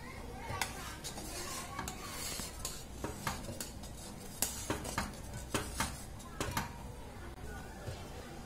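Milk thickening in a pan while a spoon stirs it: repeated metallic scrapes and taps against the pan at a regular pace, with a voice speaking over the steady stirring.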